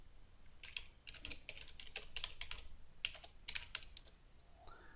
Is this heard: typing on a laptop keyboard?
yes